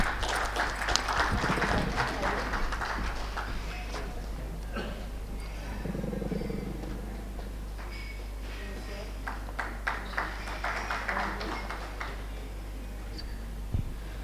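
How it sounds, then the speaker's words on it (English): Audience at a business summit and rail expo applauding, a faint scattered clapping that swells and fades, mixed with quiet voices and a hall announcer. "Can we please have a big round of applause, everyone?"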